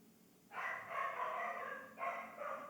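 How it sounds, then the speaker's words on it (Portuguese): Dogs bark and howl in a sustained, drawn-out chorus from a moderate distance, in three long overlapping bursts with no talking. "Olha os cachorros."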